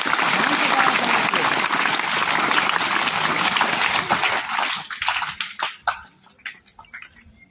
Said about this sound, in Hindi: चलो एक बार ताली बजा दो तुम।